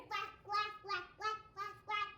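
A voice repeats a quack-like call six times in a steady rhythm, imitating a duck, close and clear.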